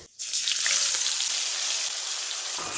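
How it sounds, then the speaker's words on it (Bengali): A paste of onion, garlic and ginger lands in hot spiced oil for a chicken curry and bursts into a loud, steady sizzle that holds for a few seconds, close and alone. "এখন এর মধ্যে দিয়ে দেবো পেঁয়াজ রসুন আদার পেস্ট"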